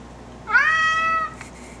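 A single clear cat meow, close and fairly loud, rising then fading over about a second in a quiet room.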